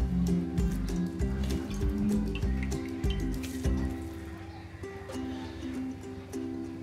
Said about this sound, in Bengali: 2 হাতে চাপ দিয়ে দিয়ে পানিটা ফেলে দিতে হবে।